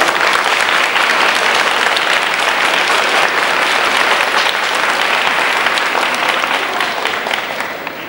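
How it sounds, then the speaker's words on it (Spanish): A church congregation at a 1990 communion mass gives loud, sustained applause that fades slightly at the end. "Por eso, agradecidos y aplaudimos."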